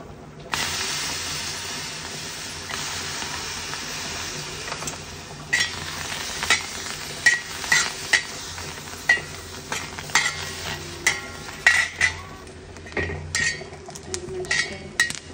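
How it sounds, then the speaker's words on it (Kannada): Green chillies frying in a little oil for a drumstick-leaf sambar, a constant close sizzle punctuated by a regular series of metal spatula scrapes and clinks against the pan in the second half. "ಹಸಿಮೆಣಸಿನಕಾಯಿ ಫ್ರೈ ಮಾಡ್ಕೊತೀನಿ"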